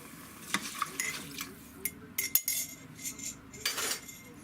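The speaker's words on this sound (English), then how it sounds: "I want you to go ahead and add 2 cups of beef broth or stock" Beef broth goes into a pot of browned beef brisket, a soft rushing splash followed by sizzling and the clink and scrape of a utensil against the pot, close by and fairly quiet.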